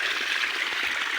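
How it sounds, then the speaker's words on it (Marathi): Irrigation water from a canal running along a sugarcane furrow, a short steady rushing trickle heard close and alone. "काकऱ्याला पाणी चालू आहे"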